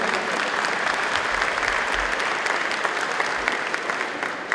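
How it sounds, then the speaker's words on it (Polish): Audience applause fills a carol concert held in an old mine venue, a dense, steady wash of many hands clapping that stays loud and even throughout with no voices over it. "Wielkie brawa dla Was."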